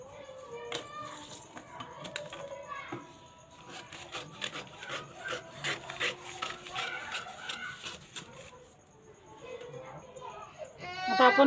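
Scissors snip through extra paper while a blouse pattern is cut, with a dense run of crisp rasping cuts and rustling paper up close under a talking voice.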